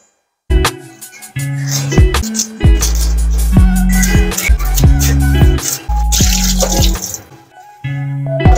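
Tap water runs into a kitchen sink while cucumber and other ingredients are washed, a steady close splashing stream broken by brief pauses and bursts, with clattering handling sounds and no talking.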